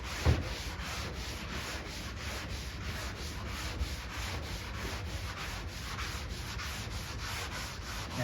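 Continuous rhythmic hand block sanding of polyester primer with a spray-on guide coat, a close, steady scratchy swish repeating in even strokes.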